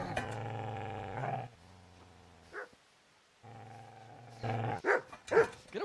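A dog in the medieval game Kingdom Come Deliverance snarls in long, deep, sustained growls, then breaks into a few sharp, close barks near the end, with a brief quiet gap between outbursts.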